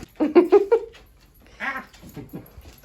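Puppies at play give a quick burst of four or five high whimpering yips up close, then a softer drawn-out whine and small grumbles.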